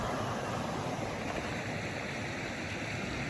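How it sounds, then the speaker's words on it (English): Small waterfalls on a creek below a trail bridge in a valley, a steady rushing and splashing of water, dense and continuous, heard from a short distance with no voices. "There's little waterfalls down there."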